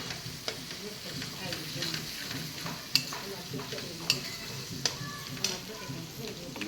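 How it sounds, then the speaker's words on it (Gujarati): Ginger-chili paste frying in a pan as it is stirred, a soft continuous sizzle broken by a few crisp utensil taps against the metal at irregular intervals. "હવે નાખી દઉં એમાં આદુ મરચાંની પેસ્ટ. એને સારી રીતે મિક્સ કરી દઈએ."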